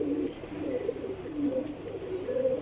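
A pigeon on a rooftop coos in low, rolling phrases, repeated several times at close range with a steady faint background hiss.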